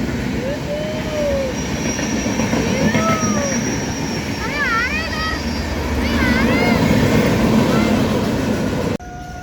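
The 17011 Intercity Express runs through Charlapalli railway station with steady rolling rumble and shifting metallic wheel squeals and whines, loud and close, with wind buffeting the microphone.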